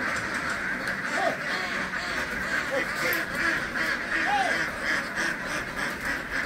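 A crowd of ducks quacks continuously while being unloaded from a truck, a dense chorus of overlapping calls close by, with faint voices in the background.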